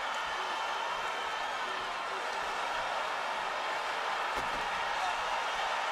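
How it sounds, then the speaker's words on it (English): A packed arena crowd roars continuously during a UFC bout between Anderson Silva and Chris Weidman, a dense, steady wall of cheering and shouting that never lets up. "Listen to this crowd."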